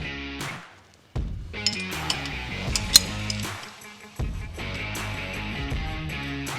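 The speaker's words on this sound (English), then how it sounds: "Now we'll remove the axle side bracket." Metallic clinks and ratcheting from a wrench while the axle side bracket of a steering stabilizer comes off a 2022 Jeep Wrangler JLU, in short bursts separated by brief pauses.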